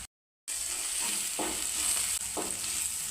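Onions frying in a pan with a spoonful of ground turmeric, cumin and fenugreek mix for a dried prawn tomato curry: a steady, close, hissing sizzle after a brief silent start, with a couple of soft stirring scrapes.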